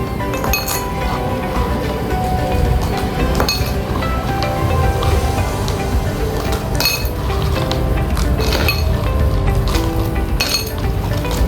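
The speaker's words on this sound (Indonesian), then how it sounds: "lalu masukkan es batu" Ice cubes tumbling into a bowl for a water-cycle demonstration, a dense run of clinking, clattering and cracking hits, loud and close throughout with no talking.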